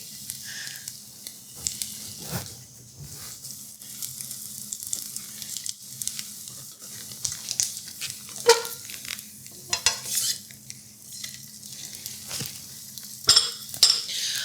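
An egg frying in a ceramic nonstick pan, with a soft steady sizzle beneath scraping, tapping and clinking of a utensil against the pan, close up and with no talking.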